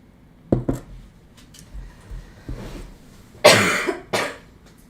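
A person indoors lets out a few separate coughs and throat-clearing noises spread over several seconds, ending in two louder, harsher coughs close by.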